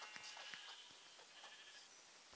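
Sheep in the Minecraft Pocket Edition video game bleat in a few short, faint calls spread across steady background hiss, with no talking.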